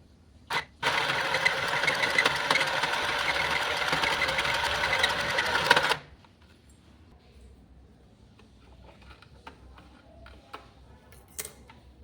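A mini sewing machine runs a continuous stitching burst of about five seconds, a dense steady mechanical whir, followed by quieter scattered clicks and handling noises.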